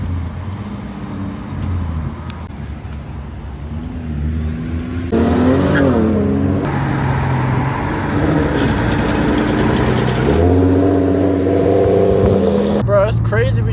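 A car cruises on a highway while towing a trailer carrying a Viper, giving a steady loud road and engine rumble with passing swells of wind and traffic noise and some brief shifts in tone.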